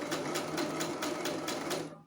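A sewing machine stitches baby frock fabric in a steady, even run of rapid needle strokes, close and moderately loud, with no voices.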